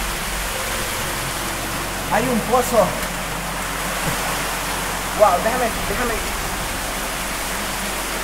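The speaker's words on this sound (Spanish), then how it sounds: "es que cae agua por la mitad" Water pours steadily down a shaft inside a sewer tunnel, a broad, constant rushing hiss that stays even throughout, with a voice speaking briefly over it in two short bursts.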